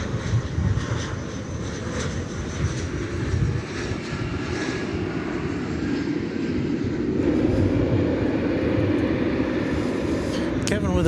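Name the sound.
American Airlines jet taking off from DFW runway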